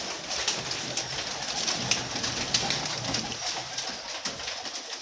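Pigeons coo steadily in low rolling calls under a hissy background of other bird chatter, moderately close and continuous with no talk.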